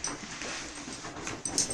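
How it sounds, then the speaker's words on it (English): A pet dog whimpers and whines faintly in the background of a room, soft and intermittent across a couple of seconds, with a slightly sharper yip near the end. "sorry, I got a dog here."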